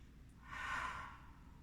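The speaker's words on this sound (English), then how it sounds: "Deep breathing." A single slow, soft exhale of deep breathing during a seated hip and hamstring stretch, faint and close, swelling and fading over about a second with no talking.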